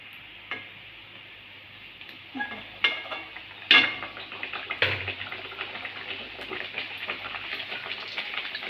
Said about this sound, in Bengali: বাকি লুচি আমি একইভাবে ভেজে নেব দেখুন কি ফুলছে